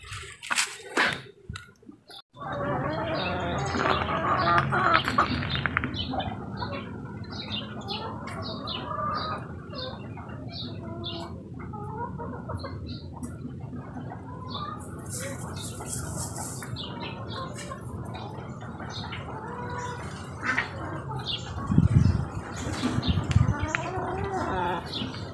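Chickens in a muddy pen at feeding time, with soft clucks and chirps over shuffling and wet squishing, while a person moves around nearby and short bursts of handling noise come and go.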